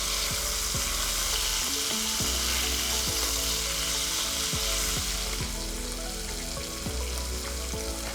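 Salmon fillets frying in a pan with a sprinkle of salt, a steady close hiss and crackle of hot oil throughout, broken by several soft knocks as the pieces are turned.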